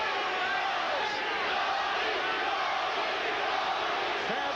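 A dense boxing arena crowd at a 1990 bout chanting a fighter's name, Tony, a loud sustained roar of many voices filling the space without pause.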